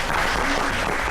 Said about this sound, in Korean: 유익한 강의 해주신 이주환 팀장님께 다시 한번 박수 부탁드립니다